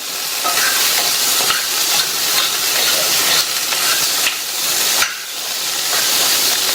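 Boiled chickpeas are stirred in a hot pan for sundal, giving a steady loud sizzle and scraping hiss that runs on without pause, close up, with no voices.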